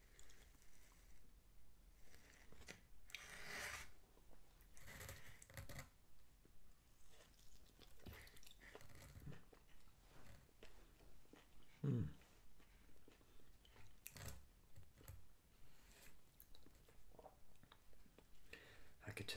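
Close, quiet chewing and biting of Little Caesars pepperoni pizza with garlic and little tomatoes, as soft rhythmic mouth sounds repeating throughout, with an occasional crunch and a few faint murmured words.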